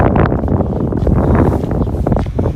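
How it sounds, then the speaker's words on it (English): Steady, loud wind buffets the microphone on a wide snowy Brooklyn avenue in winter, a continuous rumbling roar with gusty swells and no voices. "a little windy down here along the big boulevard that is 4th Avenue"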